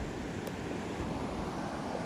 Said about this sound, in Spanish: Son las olas del mar.